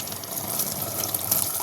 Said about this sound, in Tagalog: Grabe katusog sa ulan dito